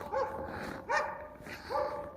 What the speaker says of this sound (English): A dog down there.